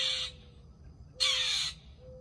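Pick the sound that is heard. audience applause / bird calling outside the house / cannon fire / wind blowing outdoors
bird calling outside the house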